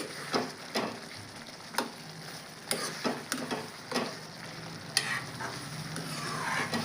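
Garlic cloves frying in a hot pan for a gongura chutney, with a steady soft sizzle broken by several sharp stirring scrapes and clicks of a utensil against the pan, close and fairly quiet, with no talk.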